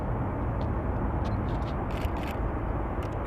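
A Qatar Airways Boeing 787 Dreamliner at Manchester Airport, a steady broadband engine roar heard from a distance and holding throughout, with faint clicks over it.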